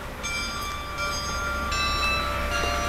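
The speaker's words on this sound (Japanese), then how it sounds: "17時の鐘が鳴っています。" At 5 pm a public bell chimes in the station square at Ikutahara Station on the Sekihoku Line, with several ringing, melodic strikes about a second apart over a low outdoor hum.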